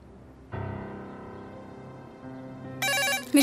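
A telephone starts ringing indoors with a steady electronic tone that holds for a few seconds, then a brighter, louder trill cuts in near the end, with no talk over it.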